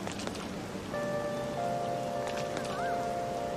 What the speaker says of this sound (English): Rain is so annoying.